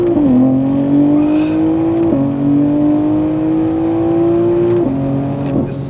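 A BMW M2 G87 with an aftermarket exhaust revs loud and close, its engine note holding steady then briefly dipping and climbing twice, a continuous droning rev with no talk.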